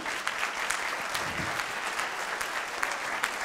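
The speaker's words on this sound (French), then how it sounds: "quelques applaudissements," Steady applause from an audience at a talk on three-star cuisine, dense clapping holding at an even level for the whole stretch with no voices over it.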